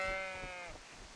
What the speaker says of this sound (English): The sheeps are getting split up, oh no!